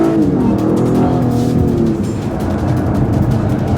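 Acura TLX or Volvo S60 T6 launching from a stop toward 60 mph with traction control off in Sport Plus mode, engine roaring steadily from inside the cabin as revs climb, then a brief shift and continued loud pull.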